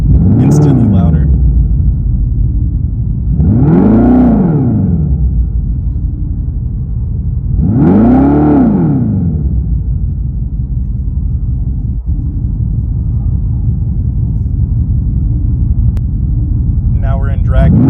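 A Dodge Charger Daytona in track mode gives loud, deep rumbling surges that rise and fall in about three sweeping waves, a constant heavy drone beneath them, close and dominant.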